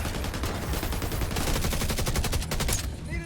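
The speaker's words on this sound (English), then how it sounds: "Enemy fire!" Enemy gunfire in The Division 2 video game: rapid automatic bursts crackle continuously over a dense, loud battle mix, fast even rhythm building before cutting off near the end.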